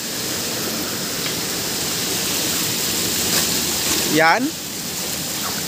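A strong water current rushes past rock formations with small falls in a steady, loud roar throughout, and a voice briefly cuts in near the end.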